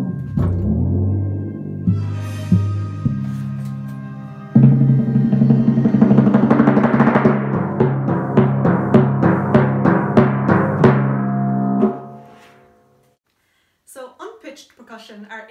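Orchestral timpani, a low-pitched tuned bass drum with a tuning pedal: booming single strokes, then a loud rolling tremolo of rapid strikes that fades out, followed by a few quieter notes whose pitch slides as the pedal moves.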